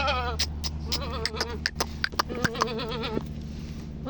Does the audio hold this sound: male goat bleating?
yes